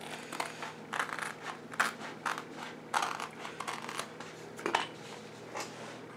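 Wood is cut down to size for a homemade bench hook. Steady rhythmic rasping strokes repeat about every half second, close and moderately loud, with no voices.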